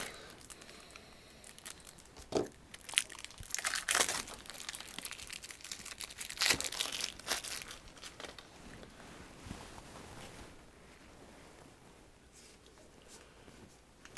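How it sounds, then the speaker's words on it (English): Foil trading card game packs are torn open and their wrappers crinkled up close, with bursts of crackly rustling and tearing that fade to quieter handling toward the end. "So better open some of these cards and have a look at these new cards"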